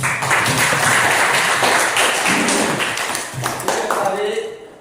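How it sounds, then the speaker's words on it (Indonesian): Audience clapping fills a school dissemination session on positive discipline, a dense, steady patter of many hands that stays loud before thinning out near the end, with voices mixed in. "Tepuk tangan."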